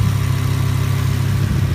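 Lamborghini Huracán LP610-4 engine idling at a steady, close rumble, with a deep low throb that holds constant and no other sounds over it.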